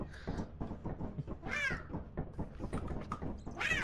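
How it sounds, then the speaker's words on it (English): A cat meows repeatedly in a video game, a series of short close meows followed by two longer, higher drawn-out cries, with faint knocks in between and no talk. "Who's meowing?"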